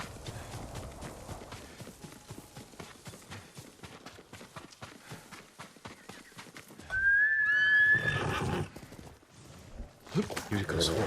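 A horse whinnies once in Ghost of Tsushima, a loud high call with a falling tail that rises clearly over steady hoof clip-clops and ambient game sound.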